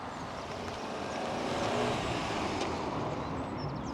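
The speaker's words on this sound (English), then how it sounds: "Sorry about the car, it's just gone past me." A car drives past on an outdoor road, a steady broadband roar that swells and fades over a few seconds with no talking.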